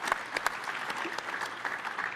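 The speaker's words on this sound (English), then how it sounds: "yes, deserving applause" Keynote audience applauding, a moderate, steady wash of clapping with a few sharper, nearer claps standing out and faint voices underneath.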